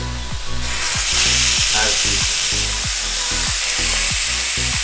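Burger patties for a crunch wrap burger searing in a hot pan, giving a loud, continuous crackling sizzle under a low rhythmic mechanical hum, close up and without talk.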